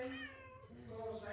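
A cat meows several times at a buffalo dairy stable, its mewing rising and falling over a steady background hum, fairly close and moderately loud.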